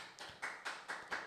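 A few people clap in response to a question about Trump winning the election: five separate, evenly spaced claps, faint and sparse rather than a full round of applause.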